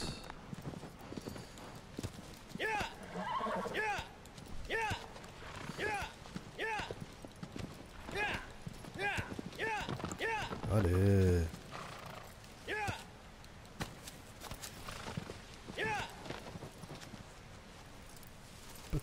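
Hooves of the horse in Shadow of the Colossus on PS4 clop in a steady, even rhythm of moderate loudness, with a short snort midway, while someone talks throughout.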